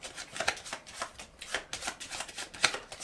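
A deck of playing cards is shuffled close by during a magic performance. Quick, crisp riffling bursts come in uneven rhythm, with short flutters and soft slaps between them, and no voices.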